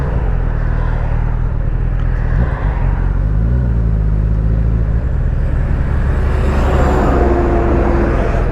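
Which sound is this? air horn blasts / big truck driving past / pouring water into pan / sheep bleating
big truck driving past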